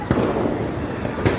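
Firecrackers burst on a street during a night of celebration, two sharp cracks a moment apart against murmuring voices and general noise.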